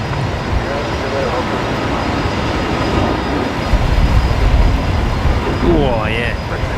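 A Boeing 737 MAX 8 departs Brisbane Airport as a steady, broad engine roar that swells toward the middle and stays loud throughout, with voices talking briefly near the end.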